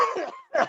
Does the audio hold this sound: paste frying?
no